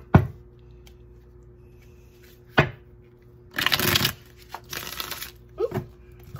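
Tarot cards are shuffled in sharp bursts, with a few crisp snaps and two longer riffling shuffles close to the microphone, separated by quiet pauses and no talking.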